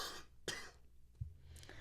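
A couple of short, quiet coughs with faint rustling between them, soft and close with low background noise.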